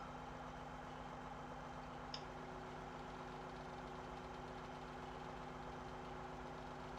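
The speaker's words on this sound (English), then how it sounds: "We'll knock the engine off." A tractor engine idles steadily in the Farming Simulator 2017 video game, a constant low drone with a strong hum that holds unchanged throughout, close and continuous with no talk.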